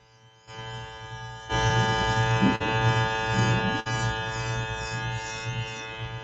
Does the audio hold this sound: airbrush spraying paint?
yes